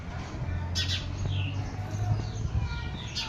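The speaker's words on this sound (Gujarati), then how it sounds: "એની ચકલી બેઠી છે." Small birds chirp in short bursts at a nest in a house, the calls sitting over a steady low hum and brief rustles nearby.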